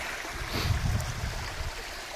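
A small brook winds down a steep slope beside a bench on a rural property, giving a steady, soft rush and gurgle of flowing water that swells slightly midway, with no one speaking.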